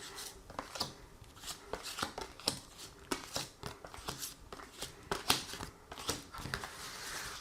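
Oracle cards being shuffled and drawn by hand, a steady run of close, crisp papery flicks and riffles with irregular rhythm, continuing alone without talk.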